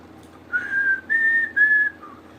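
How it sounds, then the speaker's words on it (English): A short whistled tune from The Hunger Games film, four clear notes rising then falling, heard alone against a quiet background. "There's the whistling scene."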